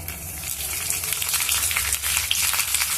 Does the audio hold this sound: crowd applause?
no